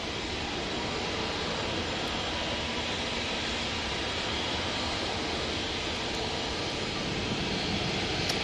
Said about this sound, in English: And off to Enfido we go with this A321 Neo for EasyJet.